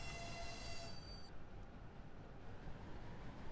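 A powerful train runs along the track in the video game Voxel Tycoon. A steady rolling rumble carries throughout, with a thin high whine over it at the start that cuts off after about a second.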